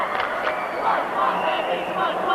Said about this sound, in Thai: มาดูช่วงเชียร์ค่ะ